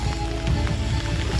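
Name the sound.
rain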